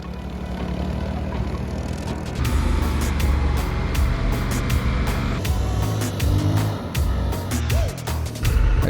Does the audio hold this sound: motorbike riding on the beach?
yes